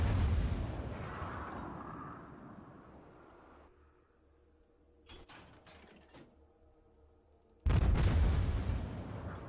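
A Phoenix-class light cruiser exchanges naval gunfire in World of Warships: a loud boom fades into quieter mechanical rumbling and clanks, then another heavy salvo erupts near the end, with no talking.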